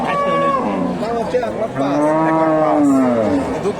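Cattle at a Bogura village cow market, where a deshi cow and a Sahiwal heifer calf are offered for sale, give loud, close, drawn-out moos, one after another, with no talk over them.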